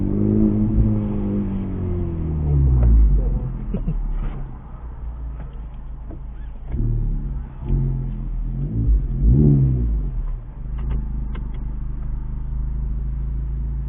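A Honda Civic Type R fitted with an AWE exhaust is driven nearby, its engine revving up and easing off in several surges over a low, steady drone.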